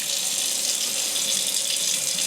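Water streams steadily from a Delta touchless kitchen faucet into the sink, a constant close hiss of running flow with no talk over it.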